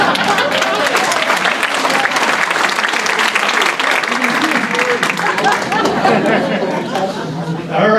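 A town hall audience applauds loudly and steadily throughout, dense clapping mixed with crowd chatter and a few voices talking over it.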